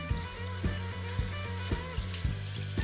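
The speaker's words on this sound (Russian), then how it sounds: "Промываем под проточной водой." Eggplants are rinsed under a running kitchen tap, with a steady rush of water and soft rhythmic splashes as the pieces are turned in the stream, close and alone.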